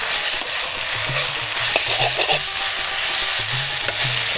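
Sweet potato leaves fry in a pan over a clay stove fired with jute sticks, a steady sizzle broken by repeated scraping strokes of a spatula stirring the greens, close and clear with no talking.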